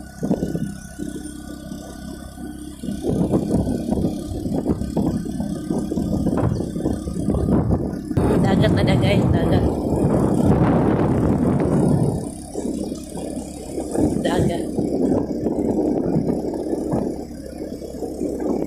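A motorcycle engine hums steadily while riding along a shortcut road, rising louder through the middle stretch with wind and rattle, and someone speaks briefly over it.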